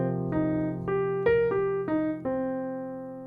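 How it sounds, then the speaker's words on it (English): An arpeggio rising and falling in even eighth notes, seven clear plucked or struck tones over a sustained low bass note, each note decaying before the next, played alone at moderate volume. "So now our ascending and descending arpeggio sounds like this."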